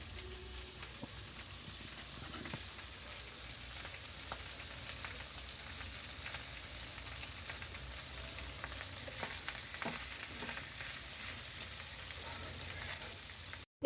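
Leftover rice frying in a pan with Maggi masala, made into fried rice, gives a steady close sizzle with occasional scrapes and clinks of stirring throughout, and no talk over it.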